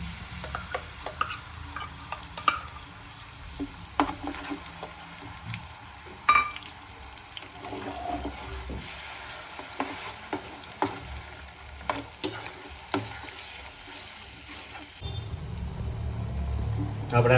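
Onion paste for chole masala fries in a pan with a steady sizzle, broken by frequent clicks and scrapes of a spoon stirring; the frying swells louder near the end.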